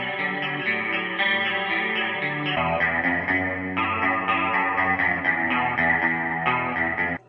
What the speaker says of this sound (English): Next guitar effect on our list, chorus.